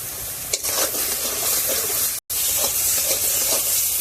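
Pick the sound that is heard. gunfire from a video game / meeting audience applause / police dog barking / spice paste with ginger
spice paste with ginger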